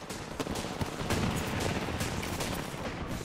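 Gunfire in a Control match of Apex Legends, dense overlapping shots from several weapons at once, a loud continuous crackle of rapid bursts with no talking.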